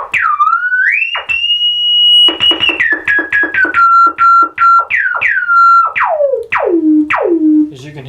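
A restored R.A. Moog Minimoog plays a run of notes to show its sustain level. The tones are loud and close, with one long held note, then quick choppy notes and falling swoops. There is no talking.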